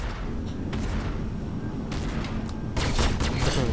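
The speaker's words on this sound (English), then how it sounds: "I can hear the sound of this cannon firing." A spaceship cannon firing in a space video game: rapid booming bursts over a constant low rumble, with a louder volley near the end.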